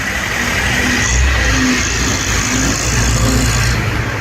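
Cars pass by a petrol station in a steady stream of engine hum and tyre noise, a medium-loud continuous wash with occasional swells as vehicles go by close to the listener.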